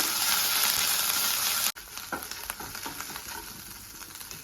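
Garlic paste and ginger paste hit hot coconut oil for a Kerala-style chicken dish, a loud steady sizzle that cuts out abruptly, then returns as a lighter crackle with scraping stirring strokes; no one speaks.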